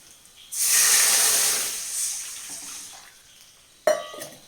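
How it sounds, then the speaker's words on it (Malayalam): A loud hiss and sizzle bursts up as water hits a hot pan, slowly fading, followed by a brief clatter near the end. "ഇനി ആണെങ്കിൽ നമുക്ക് വെള്ളം ഒഴിക്കാം"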